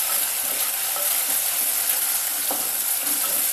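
Cumin and ginger-garlic paste fry in a hot pan for a pesarapappu khichdi, a loud, continuous sizzle close up with occasional scraping stirs of the spoon.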